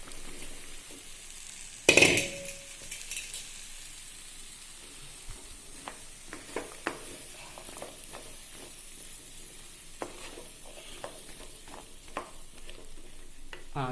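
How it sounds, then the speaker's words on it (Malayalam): Ridge gourd is stirred into a roasted-masala curry in a pan, making soft, intermittent scraping and stirring sounds with a faint sizzle. One sharp clatter comes early, and no one speaks. "ഇനി നമുക്കിതിലേക്ക് ഇറക്കി വയ്ക്കുന്ന ചുരക്ക ചേർത്ത് കൊടുക്കാം"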